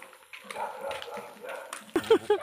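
Dogs giving a few short yips and barks near the end, close, following a stretch of muffled movement and faint background sound.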